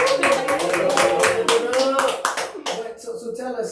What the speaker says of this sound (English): Engineers throw that clap in, clap.